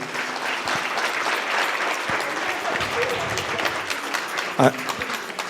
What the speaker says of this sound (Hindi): बाकी भी म्यूजिशियंस के लिए दोबारा से ताली बजा दीजिए।